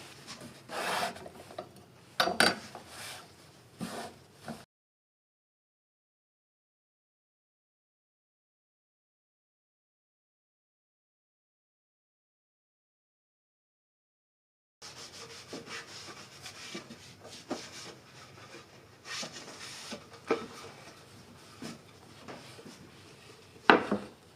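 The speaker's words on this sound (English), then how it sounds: "Clean off our board and clean off our knife" A cutting board and knife are wiped and rubbed clean while making winter sauerkraut: close scraping, rasping strokes for a few seconds, a long silent gap, then more irregular rubbing and scraping.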